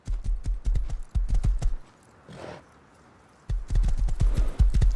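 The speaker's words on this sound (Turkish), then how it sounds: "Ben de bir atın üstündeyim ama bir saattir koşmaya çalışıyorum" A horse gallops in the survival game Rust, its hooves thudding in fast, steady clip-clop runs that pause briefly in the middle and then resume, close and loud.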